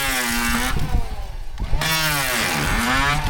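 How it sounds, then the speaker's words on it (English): A cordless electric planer shaves a bowed deck board, its loud whining motor droning steadily and dipping in pitch as the blade bites into the wood, with no one speaking. "It's an electric planer."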